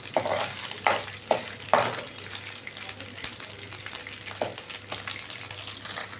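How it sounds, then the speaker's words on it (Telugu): Pieces fry in a little oil in a pan while being stirred, a low hiss of sizzling broken by several sharp scraping strokes of a spatula, close by and without talk. "ఇలాగా కొంచెం ఆయిల్లో వేయించుకుంటే ఇవి గట్టిగా ఉంటాయి అన్నమాట."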